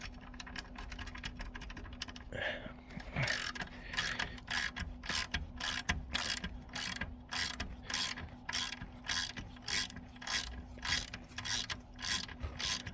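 A ratchet wrench clicks in rapid, repeated bursts while loosening nuts off bolts on a tractor, close and crisp, with short pauses between runs of ratcheting.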